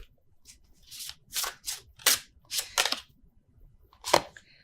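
A tarot deck shuffled by hand, not riffled: a series of short, sharp card slaps and flicks with gaps between, close and fairly quiet, no voices.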